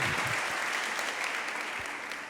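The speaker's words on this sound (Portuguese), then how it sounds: "Quantos podem aplaudir o nome do Senhor Jesus?" A church congregation claps together during a live worship service, a dense, steady wash of applause from many hands that slowly tapers.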